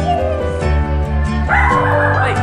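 A dog barks and yips in a quick series, fairly close, with a steady background hum and some overlapping noise.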